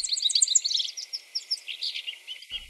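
A songbird sings rapid, high, twittering phrases, clear and fairly close, with no other sounds.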